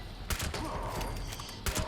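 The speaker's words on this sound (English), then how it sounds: "He's got a shotgun. See the little pellets coming towards us?" Sharp gunshots from an enemy firing a shotgun in the Fallout 76 video game, two or three loud cracks spaced apart over steady game noise.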